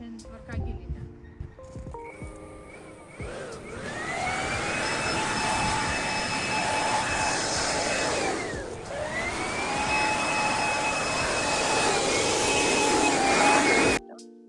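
A DEDRA DED7194V petrol leaf blower starts up and runs with a loud, steady high-pitched whine, dipping briefly midway before climbing again, then cutting off abruptly near the end.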